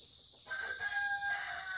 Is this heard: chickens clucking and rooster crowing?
yes